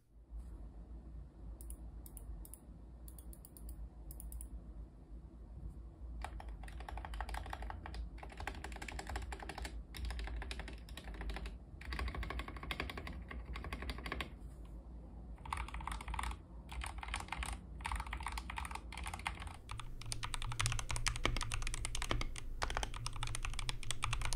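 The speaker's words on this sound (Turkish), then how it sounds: "klavyenin modlanmadan kutudan çıkmış haliyle bir ses testini yapalım" Rapid typing on a stock, unmodded Redragon K617 SE mechanical keyboard, dense clacking keystrokes in quick bursts with brief pauses, heard up close and alone.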